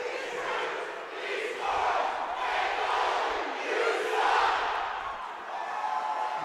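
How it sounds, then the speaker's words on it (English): Full-house crowd at a Utah State versus Utah college ice hockey rivalry game in an ice arena, a loud, sustained roar of shouting and cheering that swells and ebbs, with voices blending into the din. "And a good crowd here tonight at the Ice Arena."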